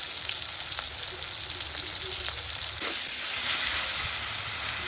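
Tomato with salt frying in hot oil, giving a loud, continuous close-up sizzle with crackling pops throughout.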